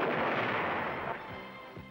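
A precision guided munition strikes a moving remotely piloted M47 tank at White Sands Missile Range, heard as a loud, rumbling blast decaying slowly over almost two seconds.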